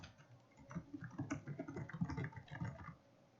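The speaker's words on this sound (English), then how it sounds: "let's see how bad typing is" Quiet typing on a computer keyboard, a soft stream of muffled clicks with no talking, fading out near the end.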